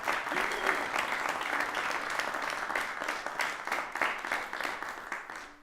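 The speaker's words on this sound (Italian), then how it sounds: "Un applauso a questa grande realtà." A theatre audience at a classical matinee concert applauds steadily and loudly, many hands clapping together without pause, with a voice faintly audible beneath.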